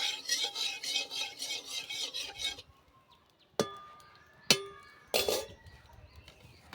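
A spoon scrapes and stirs turmeric through oil in a kadai, a steady rasping for a few seconds followed by a few sharp metallic clinks against the pan, close and fairly quiet.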